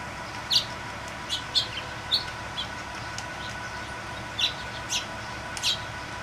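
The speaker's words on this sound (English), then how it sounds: "The birds are getting very restless." Small birds chirp on a spring morning outdoors, scattered short high tweets spread across the clip over a faint, steady background hum.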